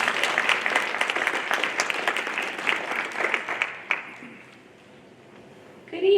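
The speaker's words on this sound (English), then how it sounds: "Can we give her a round of applause?" An audience at a school sophomore parent night breaks into dense, loud applause that holds steady for about four seconds, then thins out and fades to quiet.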